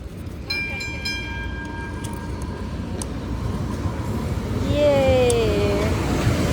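Rumble of a train passing in Boston with a steady roar, squealing wheels and a brief high whistle-like tone, while people talk nearby.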